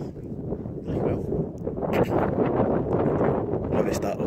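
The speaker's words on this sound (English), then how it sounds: "and it's awful windy. The wind's got a wee bit of a sting in it" Steady broadband wind buffets the microphone on an exposed hillside during a hillwalk up Beinn Narnain, roaring continuously with gusty swells throughout.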